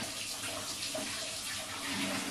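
Tap water pours steadily into a bucket in a home bathroom, a continuous close rushing splash running the whole time with no talk over it.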